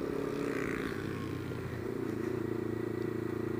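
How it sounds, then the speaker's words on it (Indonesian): A quickshifter-equipped race motorcycle engine drones steadily and close by as the rider downshifts using the clutch, its rumbling note holding fairly constant throughout. "ini gue karena downshift, jadi gue cet kopling"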